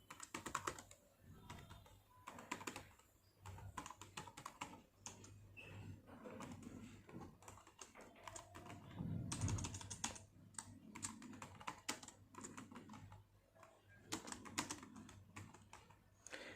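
Steady, close typing on a computer keyboard while Java code is written, with quick irregular bursts of keystrokes running throughout and no talk.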